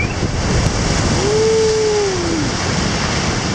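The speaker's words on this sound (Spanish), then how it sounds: "Salpica mucho la ola." Sea waves crash and splash against the shore while fishing, a broad steady roar of surf with wind buffeting the microphone throughout.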